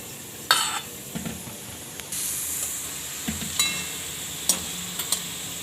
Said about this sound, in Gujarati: તો આને આપણે આ રીતે બધી તળી લેવાની છે.